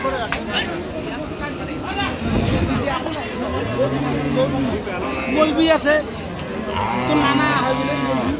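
Cows, Sahiwal and Friesian dairy animals, moo repeatedly at the Ambari cattle haat, loud and fairly close, with long low calls rising over a constant hubbub of crowd chatter and people talking.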